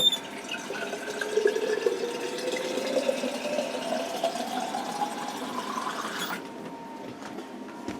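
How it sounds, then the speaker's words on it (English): Tap water runs into an emptied pasta sauce jar for a meatball casserole, a steady close rush that rises in pitch as the jar fills, then cuts off abruptly near the end. "And I'm going to fill that jar with water."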